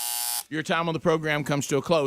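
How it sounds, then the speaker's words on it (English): A harsh, steady electronic buzzer blares loudly for about half a second on a radio show to mark time running out, then a voice speaks right after it. "The buzzer will sound at the end of 30 seconds. It sounds like this."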